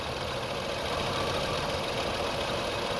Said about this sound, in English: Watch, the engine is gonna shake.